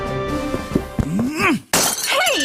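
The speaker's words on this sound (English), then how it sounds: "Why'd you throw my glass across the room?" A drinking glass thrown across a room strikes and shatters with a loud, sudden crash and a spray of breaking shards, followed by exaggerated vocal exclamations in a comedic sketch.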